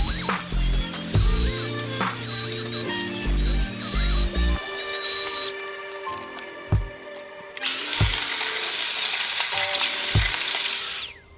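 A power tool cuts clean circles through wood with a Milescraft circle guide for an axe-throwing lane selfie board, running loud and steady, stopping partway, then resuming with a high whine and a few knocks before winding down.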